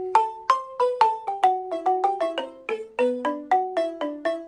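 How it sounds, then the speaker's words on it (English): A balafon with gourd resonators is played as a quick run of struck wooden notes, each a sharp buzzing attack with a short ring, moving through a descending and rising melody. "This is a ballophone."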